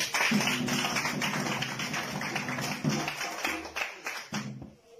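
A crowd at a political gathering of party officials claps for Karim in a steady, dense patter of applause that runs nearly the whole time, with brief taps and faint voices mixed in before it thins out at the end.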